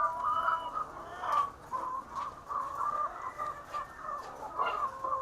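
Layer chickens on a poultry farm cluck and murmur continuously as a dense flock, with soft overlapping calls and occasional louder squawks rising out of the steady chatter.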